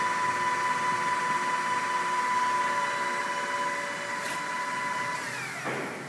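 Kingston 17/24 by 40 inch bed engine lathe running with the spindle turning and the threading and feed bar engaged, a steady mechanical whine and hum holding level, then shifting near the end as gearing changes.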